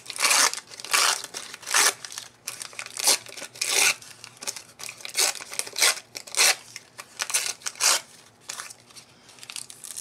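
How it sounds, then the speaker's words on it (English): A paper card torn by hand in a series of close, loud ripping bursts with short pauses between pulls, crinkling as it comes apart, with no talking. "I'm just going to just rip this."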